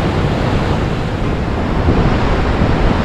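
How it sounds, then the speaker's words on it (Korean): Powerful East Sea surf pounds the rocky coast below Naksansa temple at Yangyang, Gangwon Province, a loud, continuous roar of crashing waves mixed with heavy wind rumble on the microphone, with no voices. "역시 파도는 동해 파도지요."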